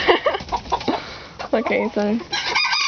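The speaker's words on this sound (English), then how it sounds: "Meanest rooster ever." An aggressive rooster clucks and crows up close, its harsh calls overlapping with a person talking nearby.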